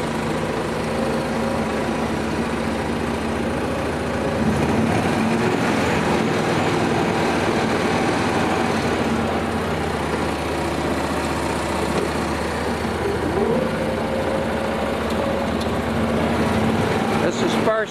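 Engine of a vehicle pulling steadily in low-range gear, a continuous low drone with a faint rising whine near the end, heard close and moderately loud with talking over it.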